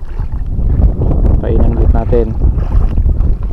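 Strong wind blows over a small fishing boat at sea, a loud close roar buffeting the microphone throughout while someone talks over it.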